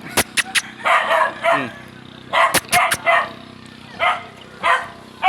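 A dog outdoors barks in several sharp bursts, loud and close, with short gaps between them. People talk briefly between the barks.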